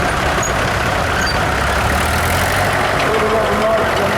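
A vintage International diesel tractor runs in the arena at a spring fair parade, a steady mid-low engine drone with some crowd and outdoor noise around it, continuous and fairly loud.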